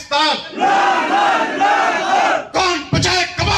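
A large crowd at a Pakistan Tehreek-e-Insaf political rally in Mansehra shouts a slogan in unison, a loud sustained roar of voices followed by several shorter chanted bursts.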